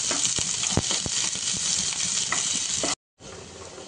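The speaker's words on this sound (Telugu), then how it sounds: "తర్వాత ఉల్లిపాయ ముక్కలు వేసుకొని ఫ్రై చేసుకోవాలి." Onion pieces sizzle and fry in a pan with bay leaf and cumin, a loud, steady crackle broken by a few stirring knocks, then a brief cut to silence before the frying resumes.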